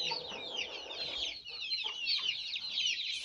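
Young chickens clucking steadily in a spacious backyard poultry pen, a dense chorus of overlapping calls at moderate distance with no talking.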